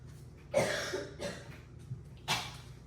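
Three separate coughs, spaced apart, sounding somewhat distant against a quiet room background.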